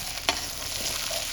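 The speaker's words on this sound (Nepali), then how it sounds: "अब मसला र मासुलाई मजाले भुट्ने एकछिन" Local village chicken sizzles as it is fried with ground spices in a pot over an open wood fire, a short burst of hissing and stirring with one sharp scrape.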